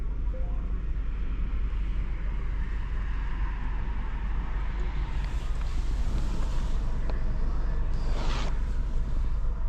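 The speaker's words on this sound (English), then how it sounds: "Car's still idling just fine." A turbocharged 8th-generation Honda Civic running on E85 idles with a steady low rumble throughout, joined by a faint whoosh of air and a brief hissing burst near the end.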